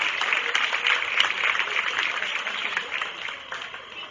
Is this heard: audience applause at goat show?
yes